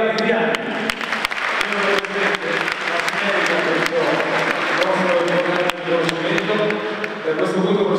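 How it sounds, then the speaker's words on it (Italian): At an Italian sports awards ceremony, an audience applauds cyclist Elia Viviani, a European omnium gold medallist, with steady sustained clapping, a loud and continuous crowd sound with a few faint voices underneath. "E vi chiedo l'applauso per Elia Viviani."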